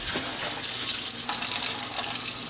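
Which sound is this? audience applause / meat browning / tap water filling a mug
tap water filling a mug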